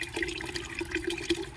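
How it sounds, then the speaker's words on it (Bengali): Water running from a household tap, a close, steady splashing and gurgling stream lasting a moment, with no talk over it. "চলো কলটা বন্ধ করি"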